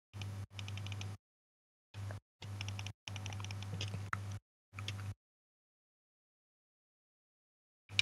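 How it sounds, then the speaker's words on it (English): Loud computer keyboard or mouse clacking in quick bursts of typing and clicking separated by silent gaps, with a low hum under each burst. "Dude, you have the loudest keyboard or mouse I've ever heard in my life."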